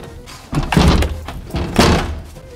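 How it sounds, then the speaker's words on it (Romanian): A door is slammed shut twice in quick succession. Each slam is a loud, close, heavy thunk with a short rattling tail, and the room stays quiet around the hits. "Am închis ușa."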